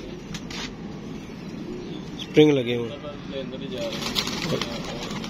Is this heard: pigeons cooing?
yes